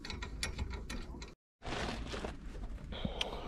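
A ratchet works a TV aerial fitting in a new-build loft, giving a steady run of close mechanical clicks that stop briefly, then resume just as densely.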